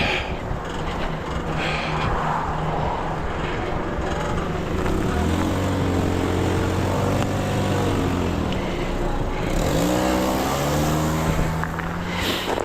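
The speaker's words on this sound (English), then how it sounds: "And now all the cars are all going to come at one time." Several cars pass close by in a steady stream, engines and tire roar swelling and fading one after another, with pitch sliding as each goes past.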